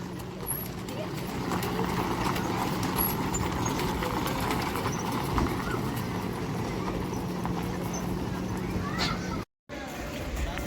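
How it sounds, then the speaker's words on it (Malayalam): A horse-drawn carriage decked in full lights at a park in Saudi Arabia, its hooves clip-clopping steadily throughout, blended with a busy crowd murmur and a constant low hum. "കുതിരവണ്ടി ഒക്കെ ഫുൾ ലൈറ്റ്സ് ഒക്കെ ഇട്ട് വാവ്."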